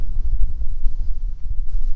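Blustery wind buffets the microphone with a low, uneven rumble that rises and falls, loud and close, with no voices.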